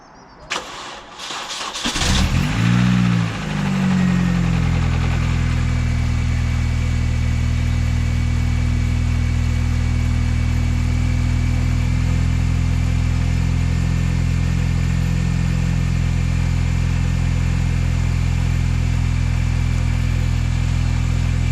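A Mini Cooper S track car engine cranks briefly, catches, and settles into a loud, steady idle that drones on continuously and close by, with no voices over it.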